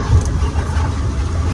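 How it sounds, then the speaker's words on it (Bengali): A car drives along a road near Devkund Waterfalls in Simlipal, Mayurbhanj, giving a steady, fairly loud engine rumble that holds throughout with no pauses. "এখন এই রাস্তাটা দিয়ে কিন্তু গাড়ি যাচ্ছে।"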